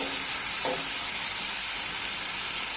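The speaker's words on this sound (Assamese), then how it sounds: "এতিয়া আকৌ অকণমান সময় ভাজি থাকিম এনেদৰে।" Tomatoes with a little turmeric fry in oil in a pan, giving a steady, close sizzle that runs the whole time, with one brief stir or scrape partway through.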